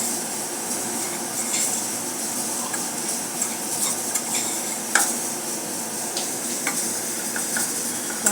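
Dry spices for onion kachori, among them turmeric, cumin, coriander, black salt and amchur, being mixed, heard as continuous close scraping and stirring with scattered light clinks against the bowl and no voices.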